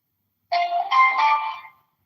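A single electronic phone ringing tone plays once for just over a second, a clean bright chime heard alone after silence, as a call is placed during a congressional campaign event.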